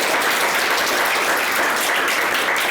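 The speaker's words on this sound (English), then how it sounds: "let's just give him a big round of applause." Audience applause following a presentation on gene mapping, steady dense clapping from a crowd that fills the whole stretch at an even level with no talk over it.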